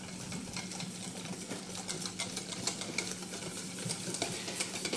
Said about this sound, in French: Bien mélanger cette partie de jaune d'œuf avec le sucre.